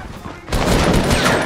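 Gunfire in the video game Fortnite bursts in suddenly after a brief quieter moment, a loud, dense volley of shots filling the rest of the short clip.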